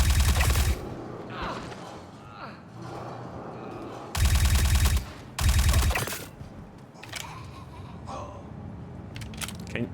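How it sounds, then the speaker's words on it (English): Loud gunfire bursts in the video game Star Citizen: a short rapid volley, then two heavy back-to-back bursts mid-way, with quieter game ambience and faint sharp cracks between. "Can you shoot this gun?"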